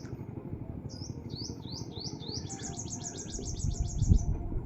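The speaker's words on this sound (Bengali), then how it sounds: "ডাকছে কে ডাকছে" Small munia birds chirp in quick repeated high-pitched phrases in a Sundarbans forest, a rapid series of sweet notes over a steady low background hum.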